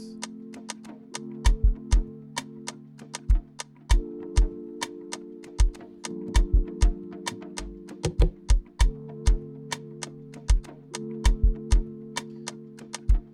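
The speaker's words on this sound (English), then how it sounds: "with the drum, it sounds like this." Hip-hop beat with sharp, regularly spaced drum hits and kick thumps over a low sustained chord progression, steady and unaccompanied by voices.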